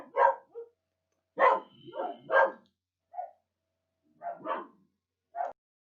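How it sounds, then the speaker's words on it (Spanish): Several dogs bark in short, spaced bursts, some yips mixed in, fairly close and clear with silence between barks and no talk. "antes que me interrumpieran los perritos"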